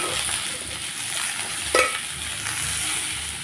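Pointed gourd, eggplant and green chilies sizzle steadily in hot oil in a pan, a continuous close frying hiss with a brief clatter of stirring partway through.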